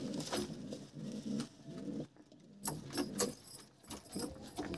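Old desi pigeons in a loft coo softly and close by amid rustling, shuffling and faint metallic rattles, in a quiet irregular mix.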